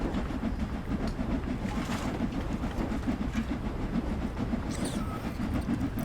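A train gains speed on a 1% incline in Train Sim World 2 on the Liverpool Lime Street to London Euston route. It makes a loud, continuous rumble with rhythmic clickety-clack from the wheels.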